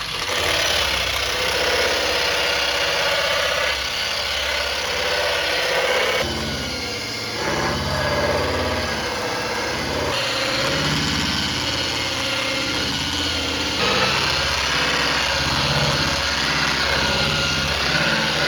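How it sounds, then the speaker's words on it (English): A surface conditioning tool with a barrel attachment strips paint from a CD7 car body down to bare metal, giving a loud, continuous motor whine and grinding roar that shifts in pitch as the pressure changes. "It's technically called right here the surface conditioning tool"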